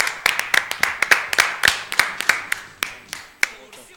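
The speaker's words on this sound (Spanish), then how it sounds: "vamos a recibir a la banda con un fuerte aplauso," An audience welcomes a band with clapping, though here it sounds like a few close, sharp, evenly spaced hand claps rather than a full crowd, with some talk underneath.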